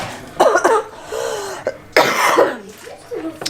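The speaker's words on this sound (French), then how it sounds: "La toux, c'est pas encore ça." Several sharp, close coughs in short bursts, with a pause between two clusters and faint background noise.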